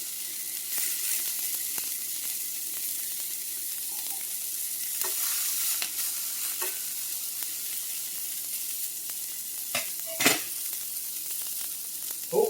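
Ground turkey burgers fry with a steady, close sizzle in a pan as they are pressed down, with a few sharper spatula scrapes and pops breaking through near the end.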